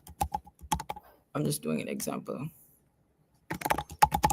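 Bursts of quick keyboard typing at a hackathon workshop, sharp close clicks at the start and again near the end, with a person speaking briefly in the pause between.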